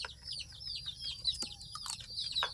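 Free-ranging backyard chickens cluck and chatter close by in a quick, busy run of calls with a few sharp squawks, no talk over them.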